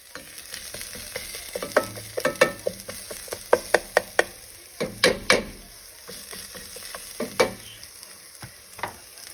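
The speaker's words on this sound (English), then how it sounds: "Let that caramelize as well while it's cooking with the onions, and let it sit in there." Onions and vegetables fry in a pan for a traditional Mexican fava bean soup, a steady close sizzle broken by frequent clacks and scrapes of a spoon stirring, with no talk.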